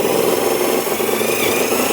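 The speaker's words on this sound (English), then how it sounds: "just as simple as taking a 1/4 inch self-tapper, get in back here a little bit, try and make sure you're going to hit the gutter" A power drill drives a 1/4 inch self-tapping screw into a house gutter while Waterlock gutter protectors are installed, making a loud, steady grinding whir for about two seconds with no talking.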